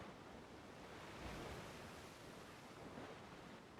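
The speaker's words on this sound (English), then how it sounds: "Bit close to the ocean, doesn't it, with the wave sound?" Steady ocean surf from the naval sailing game Naval Action, a continuous broad wash of waves rising and falling gently, fairly soft and constant with no voices over it.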